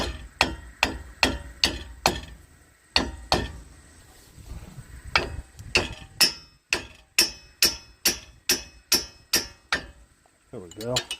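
A hammer strikes a car wheel hub on a 2012 Chrysler Town & Country, sharp metallic blows landing in a steady rhythm of about twenty hits, broken by a short pause partway through.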